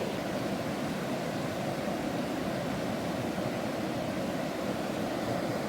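The Gifre river flows beside a campsite. It makes a steady, full rushing wash with no breaks, loud and broad across the whole stretch, and no one speaks.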